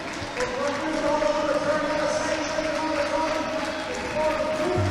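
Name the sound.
crowd applauding at a youth relay race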